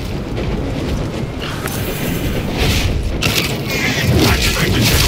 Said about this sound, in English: I plant this flag.